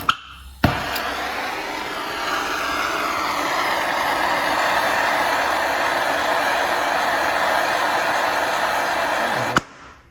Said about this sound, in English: I'm going to turn on the torch, and I'm just going to dry the flux off so it's not wet